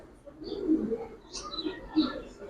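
A small pigeon with rare razor-type eyes coos softly close by, a few low throaty murmurs over a couple of seconds against faint background noise.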